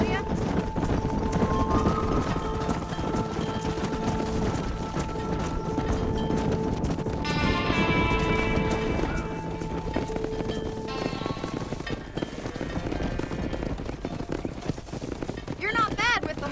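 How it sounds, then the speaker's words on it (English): Horse hooves galloping in the Western video game Red Dead Redemption, a continuous rapid clip-clop of riding mixed with game ambience and music, with characters speaking over it. "Control that horse, will ya?"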